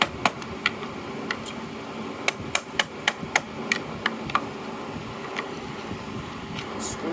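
A 1963 Impala SS starter housing is tapped open with a tool, giving a run of about a dozen sharp, close metallic knocks at uneven intervals, clustered near the middle, over a faint background hiss.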